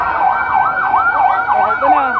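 A fire truck siren wails at a house fire in a Quezon City neighborhood, its steady rising and falling sweeps loud and continuous from start to end with no voices over it.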